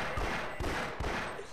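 Gunfire in the video game Half-Life, a few heavy, loud shots spaced roughly half a second apart over a constant dense game background.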